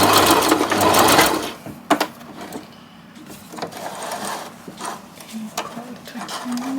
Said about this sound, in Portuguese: eu vou costurar só até aqui. Aí no final eu dou um retrocesso também pra prender a costura.